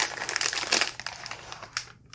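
Close crinkling and rustling of plastic packaging as a write blocker from a Digital Intelligence UltraBlock kit is pulled out, a busy burst of crackles fading to a final crinkle, no talk.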